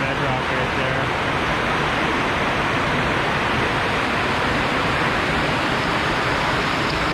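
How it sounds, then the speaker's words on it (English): A waterfall on the Bear Creek trail pours over black bedrock, giving a loud, constant, close-up roar of rushing water with no pauses. "It's just cool how that water goes right over top of that black bedrock right there."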